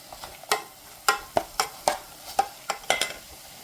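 Pork and kimchi stir-frying in sesame oil in a pot, the base for kimchi stew; repeated quick spatula scrapes and taps against the pot, close and fairly quiet over a faint sizzle.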